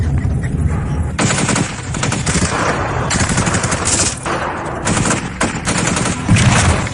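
Rapid machine-gun bursts and scattered gunshots fill a film battle scene as police surround a target, loud and near, in repeated volleys with brief gaps.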